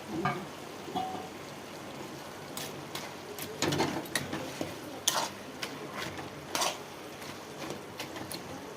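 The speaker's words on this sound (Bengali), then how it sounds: "তো এখন আমি ভেজে রাখা মাথাটা দিয়ে দিলাম।" A spoon stirs and scrapes through cooked ash gourd in a pan after a fried fish head is added, giving intermittent close scraping knocks over a soft sizzle.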